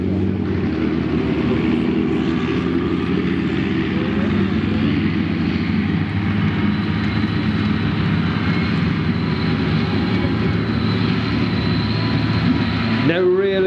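A tank's engine drones steadily and loudly while its tracks grind through a full 360-degree turn on soft ground at a military vehicle show, with someone talking over it throughout and a brief whine near the end.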